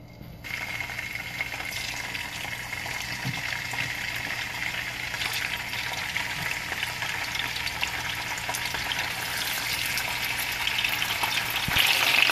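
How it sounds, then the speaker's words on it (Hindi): Fish frying in hot cooking oil in a frying pan, a dense, even crackling sizzle that holds steady throughout and swells slightly near the end, no speech. "हमने फिश को तब तक फ्राई करना है जब तक इसके ऊपर लाइट गोल्डन कलर आ जाए"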